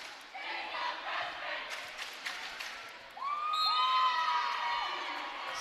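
A high school student section cheers and shouts loudly at a girls' volleyball match between Green Bay Southwest and Bay Port, a sustained crowd roar with whoops and shrill voices rising near the end.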